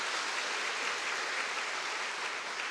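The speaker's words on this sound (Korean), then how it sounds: "잘 오셨다고 박수 한번 해주시고요." A church congregation applauds during a Sunday service, a dense, even patter of many hands clapping steadily at moderate volume throughout, with no talk over it.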